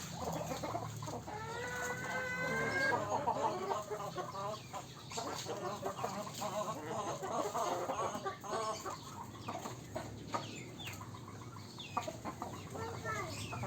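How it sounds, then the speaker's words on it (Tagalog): Chickens cluck and squawk nearby in repeated bursts. Voices talk faintly now and then beneath them. "Ayun na, ayun yung chicken."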